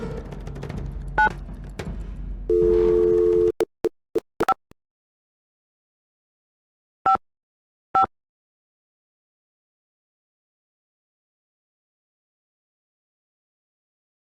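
Telephone in the Nancy Drew game The Secret of the Scarlet Hand: a steady dial tone for about a second, then a handful of short, sharp dial beeps spaced irregularly, with silence afterward.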